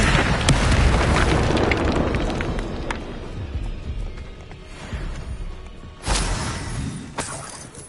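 Confringo fire-blast spell in the game Hogwarts Legacy, a booming explosion with crackling debris that fades, followed by a second sharp blast near the end, loud and close.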